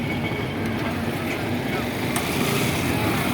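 A second-hand Bajaj Discover motorcycle with a weak battery is being started, its engine giving a continuous low rumbling drone close by while people talk over it.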